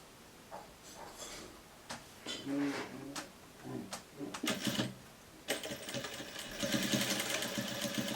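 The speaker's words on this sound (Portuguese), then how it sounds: "vai fazer uma costurinha aqui para prender" A home sewing machine stitches fabric for a shirt, with a steady close mechanical whir in short bursts that settles into a longer continuous run near the end, while someone talks over the earlier part.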